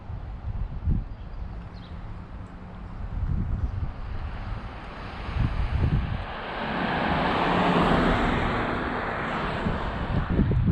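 A car passes along a road, a broad rising whoosh that swells and lingers before fading, heard amid blustery wind buffeting the microphone outdoors.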